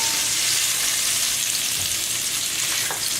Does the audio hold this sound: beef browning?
yes